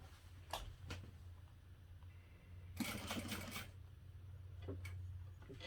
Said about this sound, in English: Now I'm just sewing another line straight across.